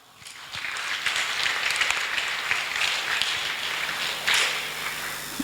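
A church congregation bursting into sustained applause, many hands clapping steadily for several seconds, loud and close, with a brief surge near the end and no voices over it.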